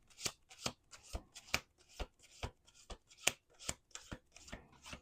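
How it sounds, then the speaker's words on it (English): Tarot cards are shuffled by hand in a series of about a dozen quick, crisp riffling bursts, close and fairly quiet, with no talking. "Let's do 2 more shuffles."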